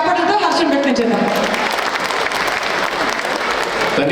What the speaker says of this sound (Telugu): మనం ఇందాక అనుకున్నట్టు బోత్ విన్నర్కి అండ్ స్పాన్సర్కి మన చప్పట్లతో హర్షం వ్యక్తం చేద్దాం